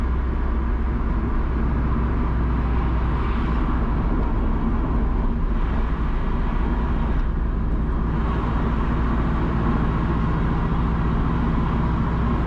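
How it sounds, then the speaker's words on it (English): A car rolls along Trafalgar Road in Kingston, Jamaica, giving a steady, dense rumble of engine and road noise with traffic passing nearby, and no voices. "We are now driving on Trafalgar Road towards Oak Road"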